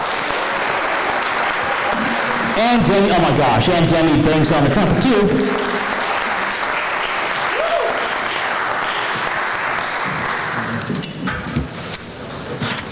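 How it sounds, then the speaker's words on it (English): Audience at a high school jazz night giving a round of applause to the musicians, a steady wash of clapping that swells midway and fades near the end while a presenter speaks over it. "Let's give him one more round of applause"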